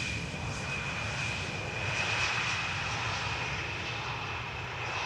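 Fixed-wing airliner landing at Amsterdam Schiphol Airport, a steady loud engine roar with a high whine that holds throughout, swelling slightly midway, with no voices.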